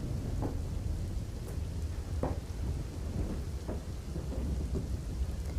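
Heavy monsoon rain pours steadily on Girnar mountain in Junagadh, Gujarat, a dense hiss broken by several low rumbles and cracks of thunder.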